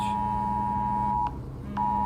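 A phone alert sounds as a steady high electronic tone that drops out briefly and then returns, heard alone at moderate loudness.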